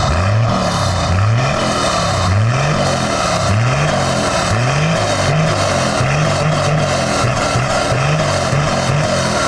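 Toyota 80 Series Landcruiser with a 1HDT turbo diesel and a side-dump 3-inch PPD exhaust, its engine note loud and steady with a regular low pulsing throb throughout, no talking.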